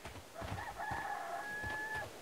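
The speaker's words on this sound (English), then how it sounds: "That was a cockerel." A rooster crows once in the Sherlock Holmes: Crimes and Punishments game, a clear, drawn-out cock-a-doodle-doo heard over a garden and field ambience with faint background rumble.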